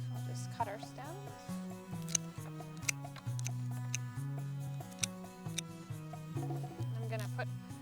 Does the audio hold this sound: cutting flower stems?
yes